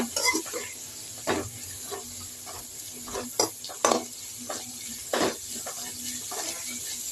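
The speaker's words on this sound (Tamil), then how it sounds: "போட்டு நல்லா வதக்கிட்டேன் நல்லா சுருளாக வதங்கணுங்க" Onions sizzle and crackle in a hot pan with intermittent stirring scrapes, a steady frying hiss underneath.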